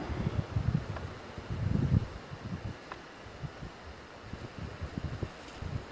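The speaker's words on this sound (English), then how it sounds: "Wind's blowing so hard I can't keep this thing still" Strong wind buffets the microphone outdoors in the Texas hill-country woods near Leakey during a November hunt, with heavy low rumbling gusts that swell, ease off, then keep gusting in uneven bursts with faint rustling.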